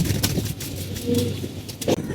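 Pigeon cooing close by, a few low throaty coos with brief pauses between them, over steady background noise.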